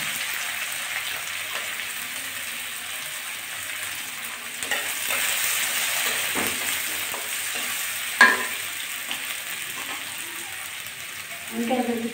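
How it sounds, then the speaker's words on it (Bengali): Chopped onions frying in oil with dried red chillies for a masoor dal tempering, a soft, continuous sizzle with occasional stirring scrapes and a brief clink. "এই যে পেঁয়াজগুলো ভেজে নিচ্ছি, প্রায় লাল হয়ে এসছে"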